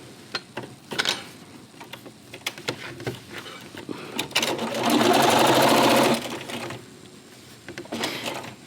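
A sewing machine with a walking foot stitches quilt binding nearby, starting with intermittent clicks and short stitch bursts, then running in one loud sustained whirring burst before easing back to scattered taps.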